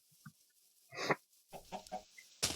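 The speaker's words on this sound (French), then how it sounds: "Là, il y a des poulets." Quiet, intermittent video game chicken clucks in short bursts, with a soft rustle and a brief sharp noise at the end.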